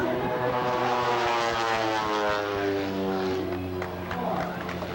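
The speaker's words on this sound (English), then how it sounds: "He's got a Lycoming 180 horsepower, 360 cubic inch engine in that aircraft, capable of inverted flight." A Pitts Special aerobatic biplane with a Lycoming 180 hp, 360 cubic inch engine, flying at an airshow, gives a loud, steady droning propeller roar with a buzzing engine tone that shifts slightly in pitch, with announcer talk underneath.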